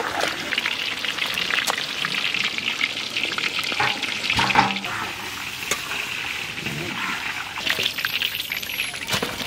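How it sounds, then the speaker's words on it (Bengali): Fish curry masala sizzles and fries steadily in a pan during village-style outdoor cooking, with continuous hissing and occasional stirring scrapes and clinks, and no voices over it. "সুন্দর কষানো হচ্ছে, আরও কষাবো।"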